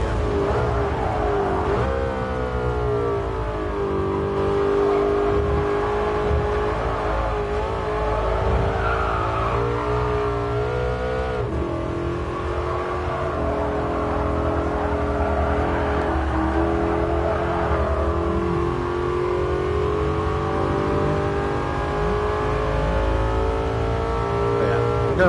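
A race car engine drones steadily in GT Sport, its pitch rising and falling with faint tire noise, loud and continuous for the whole stretch, with a voice speaking quietly in places.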